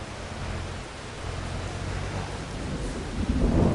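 Thunder and rain in Farming Simulator 22, a dense continuous hiss of rainfall with a low rumbling swell that grows louder toward the end.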